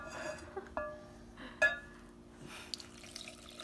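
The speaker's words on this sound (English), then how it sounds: "In goes the agua." Warm water pours into a sourdough starter jar in a kitchen, a short gurgling splash with a few small drips and clinks, close and fairly quiet.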